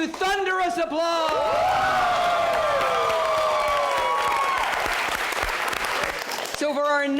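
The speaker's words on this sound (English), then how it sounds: "we're going to give you thunderous applause" A theatre audience at an improv comedy show breaks into loud, sustained applause with cheering and whoops for several seconds, with voices audible at the start and end.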